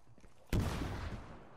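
A sudden loud gunfire burst in Rainbow Six Siege, an abrupt sharp blast followed by sustained rattling noise that fades slightly, after a quiet lead-in.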